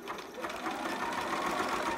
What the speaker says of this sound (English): stitch, go over that elastic